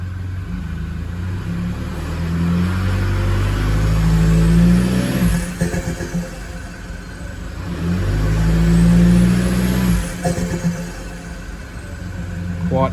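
The engine of a Toyota Fortuner fitted with a 4-inch stainless steel snorkel is heard from inside the closed cabin, a deep low drone that swells twice in revs and then settles back.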